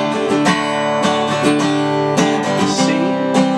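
Acoustic guitar strumming a chord section, a steady close rhythmic strum with quick chord changes, loud and clear with no voices.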